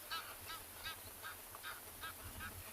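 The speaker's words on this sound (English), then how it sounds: "Might be able to hear some Egyptian geese in the background busy honking" Egyptian geese, male and female, honking repeatedly in the background, a steady series of harsh calls roughly twice a second over a low wildlife soundscape beside the Mara River.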